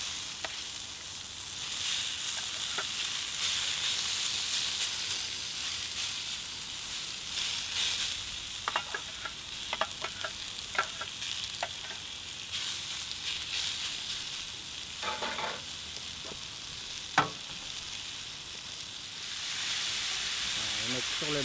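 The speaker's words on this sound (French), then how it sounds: "on peut également réchauffer les légumes qu'on a presque cuits tout à l'heure" Vegetables, already nearly cooked, reheating on a hot plancha while pork tenderloin with pimentón cooks alongside, giving a steady continuous sizzle with scattered pops and clicks of utensils, fairly close and moderate in level, with no talk over it.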